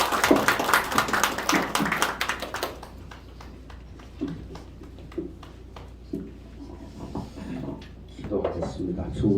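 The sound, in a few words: applause welcoming the pastor in a church service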